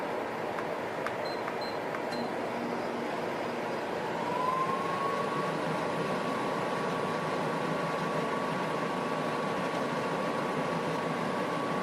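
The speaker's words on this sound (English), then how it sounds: "Right now you hear the fan, you're going to hear the compressor kick on." A portable air conditioner hums with a steady broadband fan wash, then its compressor kicks on about four seconds in, adding a sustained tonal whine that holds to the end without talk.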